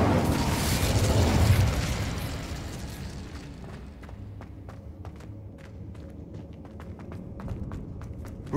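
The Incendio fire spell is cast in the Hogwarts Legacy video game, a loud whooshing burst that swells for about two seconds, then fades into a quieter crackling tail with scattered sharp pops.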